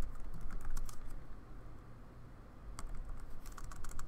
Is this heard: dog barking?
no